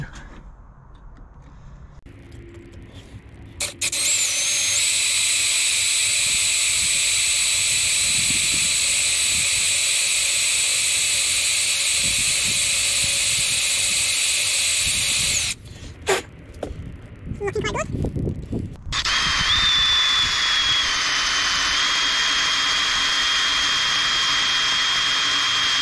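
A loud, steady high-pitched whine of a power drill boring through metal on a Fordson Major tractor brake repair, running for long stretches with brief pauses and a pitch drop near the end.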